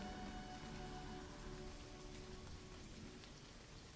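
Steady rain falling on surfaces, a dense, even patter with scattered droplet taps and no pauses, soft and continuous throughout.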